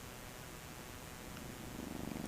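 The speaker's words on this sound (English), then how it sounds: "who is currently purring." A 12-and-a-half-week-old kitten purrs steadily and softly throughout, a low continuous rumble that swells slightly louder near the end.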